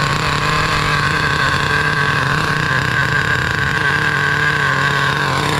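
A 2007 Duratrax RTX-27 Big Block nitro RC car engine idles steadily with a constant buzzing drone, loud and close, with no talk.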